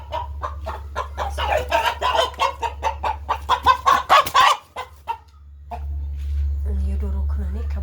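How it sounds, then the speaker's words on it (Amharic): A chicken bought at a market clucks in a rapid, loud series of short calls close by, then falls quieter as a background hum continues. "እዚህ ጋር ደግሞ አንድ ዶሮ ገዝቻለሁ።"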